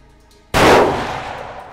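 A single loud rifle shot fired at a 400-yard target on a hunting ranch cracks close by, then rolls off in a long, fading echo.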